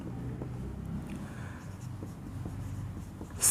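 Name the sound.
pen writing out a math solution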